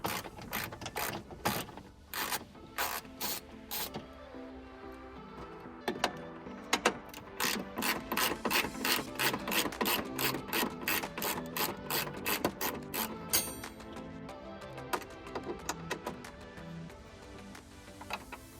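A ratchet wrench backs out 10mm bolts on a Toyota Tacoma front bumper, with rapid, close clicking runs in repeated bursts, dense in the middle and easing off toward the end.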